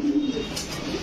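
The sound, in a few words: silver bezi pigeon cooing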